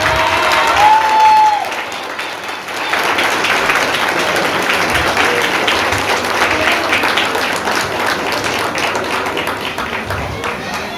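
An audience claps after a dance performance at a couples' comedy contest, with steady applause running throughout and a brief tone and some voices near the start.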